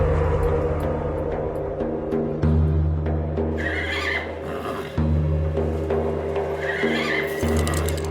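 Shalimar, a horse, neighs in long whinnying calls with breathy snorts between them, close and fairly loud, with no talking.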